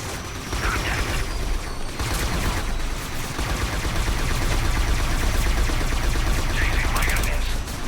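Rapid automatic gunfire from a weapon in the video game Scourge Outbreak, a dense, loud, continuous burst of shots with mechanical clatter running throughout.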